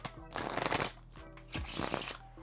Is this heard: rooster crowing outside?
no